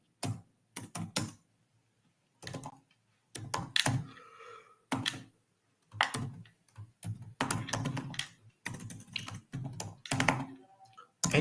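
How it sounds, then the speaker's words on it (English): Typing C code on a computer keyboard, close bursts of rapid key clicks separated by short pauses, quiet and with no voices. "Okay, so I will just type an example here."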